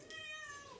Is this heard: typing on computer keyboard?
no